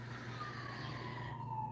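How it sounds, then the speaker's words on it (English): An ambulance siren passing outside a home in a city neighborhood, a steady wailing tone that glides slowly downward as it moves off, heard alone at moderate distance with no talking. "So if you hear the ambulance, like I'm listening to it right now"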